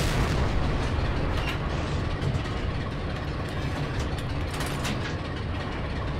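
Anti-tank gun in Forgotten Hope 2 being worked in combat, a steady loud mechanical clatter of ratcheting and grinding gear noise with no speech over it.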